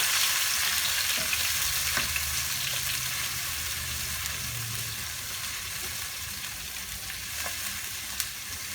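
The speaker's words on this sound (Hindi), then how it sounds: "इसमें मैं डाल दूंगी अदरक लहसुन का पेस्ट और हरी मिर्चें। एक मिनट हम इसे भून लेंगे।" Ginger garlic paste and green chilies frying in oil in a karahi make a dense, continuous sizzle with faint stirring scrapes. The sound stays close and steady throughout and nobody speaks.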